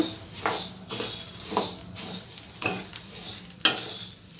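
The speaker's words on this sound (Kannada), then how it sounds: "ನೋಡಿ ಧನಿಯಾ ಕೂಡ ಚಟ್ಪಟ ಅಂತ ಇದೆಯಲ್ಲ ಆವಾಗ ಅದು ರೋಸ್ಟ್ ಆಗಿದೆ" Coriander seeds stir-roasting in a dry pan for spice powder, with a spoon scraping and clinking against the metal in repeated strokes every second or so while the seeds crackle faintly underneath.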